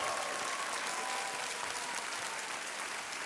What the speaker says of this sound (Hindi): बहुत जोरदार तालियों के साथ इनका स्वागत किया जाए।